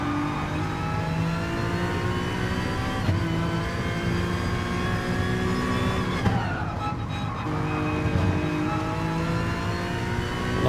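Race car engine in Gran Turismo Sport drones steadily at high revs through a long corner, a tyre-worn understeering run with gear changes and a brief burst of roaring noise midway, loud and close with no talk.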